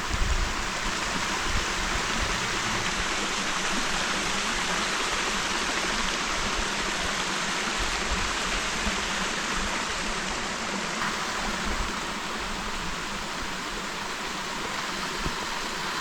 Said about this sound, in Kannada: ನೀರು ಸೌಂಡ್ ಕೇಳಿ ಎಷ್ಟು ಚೆನ್ನಾಗಿ ಕೇಳಿಸ್ತೀವಿ.